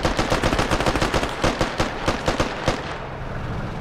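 Machine gun fire on a bipod in the military shooter game Squad, with rapid loud bursts of closely spaced shots continuing for several seconds before tapering off.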